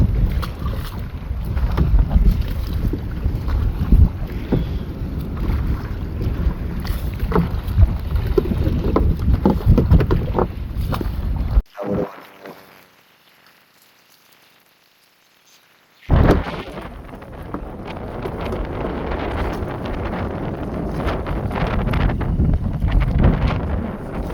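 Strong sea wind buffets the microphone on a fishing beach with shore seine nets, a constant heavy roar that cuts out for a few seconds of near quiet before rushing back just as hard.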